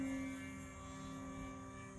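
An RC model Mosquito warbird airplane, kit-bashed from a Seagull Dual Ace, makes a steady, moderately loud engine drone with a constant tone as it flies low past.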